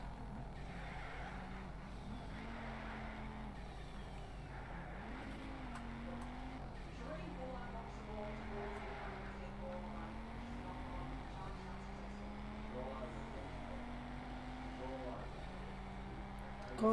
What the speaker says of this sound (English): God, this shifting sounds so weird.